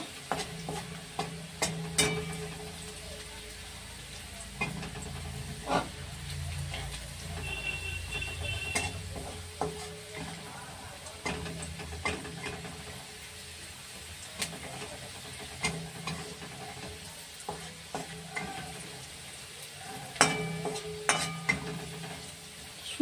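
Onion fries in oil under repeated stirring, a steady sizzle broken by frequent spatula scrapes and clinks against the pan at an uneven pace, close and moderately loud, with no talking.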